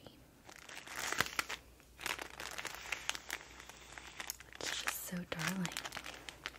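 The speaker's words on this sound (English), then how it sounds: "More delicious crinkles." Crinkly plastic packaging from a cute stationery haul is squeezed and handled close up, making bursts of crackling and rustling while a soft voice talks briefly over it.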